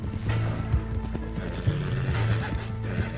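A horse in a video game gallops with steady clip-clop hoofbeats and occasional snorts and whinny-like calls, loud and continuous, with brief mechanical clatter mixed in.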